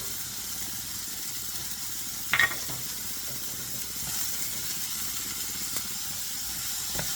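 Bitter gourd, onion, green chili, ginger and curry leaves stir-frying in a pan, a soft, even sizzle and hiss with one brief clatter of stirring early on, no talking.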